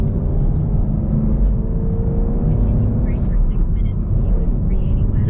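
Manual Camaro 2SS 1LE engine drones steadily close by while driving, with a brief rise in revs for a rev-matched downshift, under continuous road rumble and someone talking over it.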